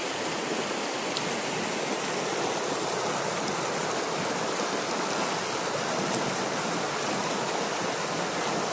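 Fast-flowing stream water rushes steadily and loudly without a break, a dense broadband roar of churning current close by, with no voices over it.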